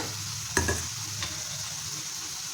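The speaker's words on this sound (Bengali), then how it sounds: "এবার মশলার সাথে মোচাগুলো ভেজে নেব" Banana flower frying with spices in a pan, a steady close hiss of hot oil with one sharp knock of a utensil and a softer scrape shortly after.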